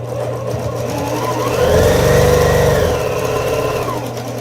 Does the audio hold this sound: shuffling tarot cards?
no